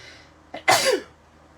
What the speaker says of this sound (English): I could feel that sneeze coming, but it sure took its time getting here.